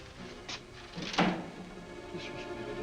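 An old door creaks and thuds open in a 1945 Sherlock Holmes film, a single close movement with a brief knock near the middle over a steady hum of room tone.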